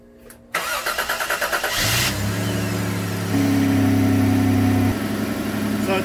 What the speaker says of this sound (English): So let's go turn on the engine and let the engine run hot